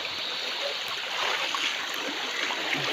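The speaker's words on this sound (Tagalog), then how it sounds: "Yan, sobrang agos. Lakas." Strong river current in flood conditions, a loud continuous broadband rush of flowing water, close and steady throughout with no talk.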